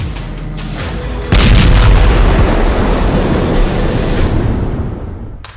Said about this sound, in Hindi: इजराइल ने दावा किया है कि उसकी सेना ने गाजा के सुरंग नेटवर्क पर बहुत ही भीषण हवाई हमला किया है।